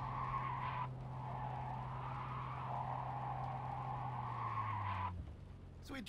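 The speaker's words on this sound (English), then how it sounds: "It sounds like a bunch of tires screeching." Faint, sustained tire screeching from the video game Cyberpunk 2077, a steady squeal running for several seconds with a low engine hum underneath before it fades out.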